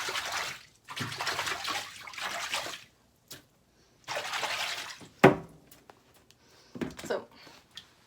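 Soap being mixed by hand into a basin of water for washing wigs, with repeated sloshing and swishing bursts separated by short pauses, close and moderately loud, plus a few drips and splashes.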